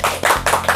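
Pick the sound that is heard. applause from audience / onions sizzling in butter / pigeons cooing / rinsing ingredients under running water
applause from audience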